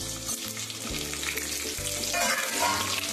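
Knife-slit green chillies sizzle loudly in hot oil as a tempering for khaman dhokla, a dense, continuous frying hiss with no talk.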